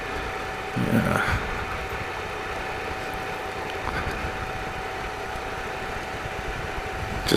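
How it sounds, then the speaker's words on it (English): A Triumph Explorer motorcycle engine idles while coasting downhill on a byway, a low, steady rumble and faint rattling throughout, plus a brief louder thump near the start. "just let the engine idle and let it just take you down the hill"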